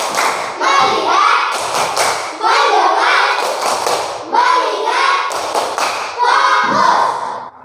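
Classroom of pupils doing a rhythmic 'tepuk fokus' clapping routine, loud patterned bursts of hand claps and thumps in quick groups, with children's voices chanting along between the claps.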